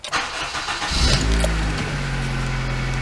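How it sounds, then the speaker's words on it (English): A 2002 Honda Civic Si EP3 engine cranks briefly, catches, and settles into a steady idle hum close by. "Fired up the car."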